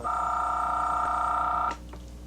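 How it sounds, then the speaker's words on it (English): A 1983 home computer modem dials out over the telephone line to connect to a bank. A steady, loud electronic tone holds for under two seconds, then cuts off, leaving faint background noise. "what this computer will do now, yes, I can hear it go, is it's going to telephone my bank"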